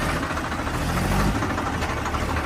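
A four-wheel-drive tractor engine runs steadily at idle, a continuous low rumble with mid-range vibration filling the whole stretch, close and fairly loud with no speech over it.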